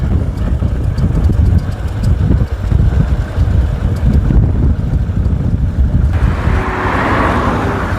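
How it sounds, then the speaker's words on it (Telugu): Vehicles passing along a road near Maheshwaram, a continuous rumbling traffic roar with heavy wind buffeting the microphone, one vehicle's whoosh rising toward the end. "బండ్లు పోతున్నాయి కదా."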